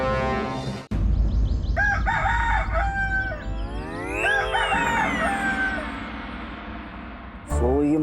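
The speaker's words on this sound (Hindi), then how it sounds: "वो ये मुर्गा निद्रा भंग कर रहा है।" A rooster crows loudly and close, several drawn-out calls in succession, clearly the dominant sound with background noise beneath.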